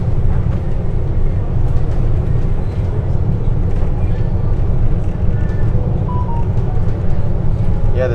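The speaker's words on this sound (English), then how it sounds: "The train is approaching." A free downtown Miami train pulls into Riverwalk Station, a steady, loud low rumble and rolling wheel noise filling the platform for several seconds, with faint higher squeals near the end.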